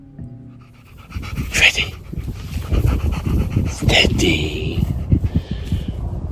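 A dog panting steadily on a walk in the Malvern Hills, Western England, with rhythmic breaths close to the microphone while people talk over it.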